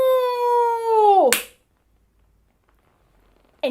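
A Noh drum strikes once, sharp and close, in the kuse section of Hagoromo. A long, drawn-out sung vocal call comes before it, and another call begins after a pause of silence.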